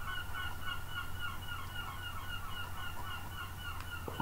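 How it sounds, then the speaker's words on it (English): Seagulls call repeatedly outdoors in a steady, rhythmic series of harsh, honking cries at moderate distance, over a constant low background rumble. "Wondering if you can hear the seagulls there."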